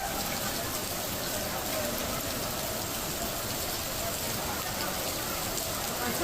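Heavy monsoon rain pours down steadily in Mumbai, a dense, constant hiss of downpour that holds at the same level from start to finish with no pauses.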